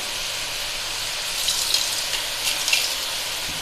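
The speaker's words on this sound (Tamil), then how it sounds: "தக்காளி நல்லா வதங்க ஆரம்பிச்சிருச்சு" Tomatoes and onions sautéing in a pan for okra broth give a steady, close hiss of steam and frying, with a few brief louder crackles toward the end.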